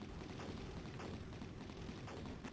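Booming explosions from the Amiga shoot-'em-up Banshee roll on without a break, a dense low rumble packed with overlapping blasts and no voices.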